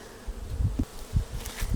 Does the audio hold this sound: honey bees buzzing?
yes